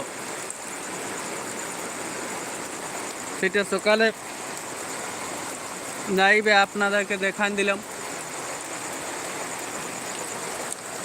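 Heavy rain falls outdoors in a village during bad weather, a constant dense hiss running throughout while a person talks over it in short bursts.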